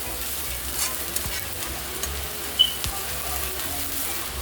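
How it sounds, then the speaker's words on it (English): Onion simmers in a pan on the stove over medium heat, a steady soft sizzle running throughout with a couple of faint clicks and stirring taps near the mic. "you want to get to glaze that onion, and then you put it to medium heat and let it simmer right there"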